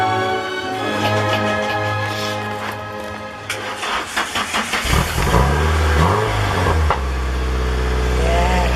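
A Nissan 240SX engine runs and is revved in a garage, a steady idle giving way to a stuttering series of throttle blips and then a louder sustained rev, close by, with brief talk.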